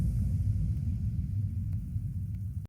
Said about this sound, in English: Just a regular Reese bass. This is from my good friend Arcando's Splice Pack